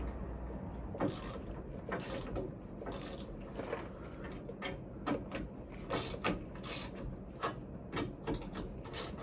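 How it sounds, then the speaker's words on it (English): A ratchet wrench clicks in repeated bursts while tightening U-bolts on a bus bracket, close mechanical ratcheting with short pauses between strokes. "les bolts en U, on veut les serrer pour s'assurer que ce bracket-là est bien d'équerre et ajusté à la tie rod"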